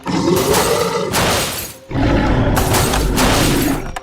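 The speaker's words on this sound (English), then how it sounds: "you can press down on the glass on the top here and try to break in and eat the person that's inside" Jurassic World T-Rex toy with a glass-breaking sound effect: a loud electronic burst of shattering and crashing noise, played twice with a brief gap between, harsh and distorted from a small speaker.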